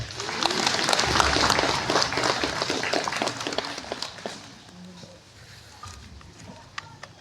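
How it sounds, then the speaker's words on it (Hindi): Congregation applauding at a priest's ordination Mass in Rajawal parish, loud dense clapping that gradually thins and fades toward the end. "हम लोग जोरदार तालियां बजाएंगे और एक साथ कहेंगे, ईश्वर को धन्यवाद।"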